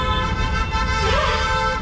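A Tata Nexon car horn blares in one long, continuous honk, loud and close, over a low background hum.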